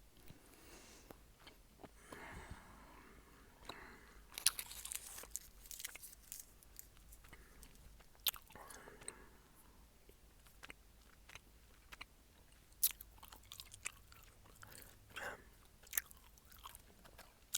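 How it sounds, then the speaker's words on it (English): Chewing gum produces quiet, close, irregular wet clicks and smacks over a soft background, with occasional sharper snaps and no talking. "I'm putting another piece of gum in my mouth."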